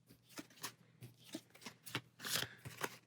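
Cards being drawn and handled during a game of Aeons End Legacy: a series of quick papery snaps and flicks, about ten crisp bursts over a few seconds, close and fairly quiet with no talking.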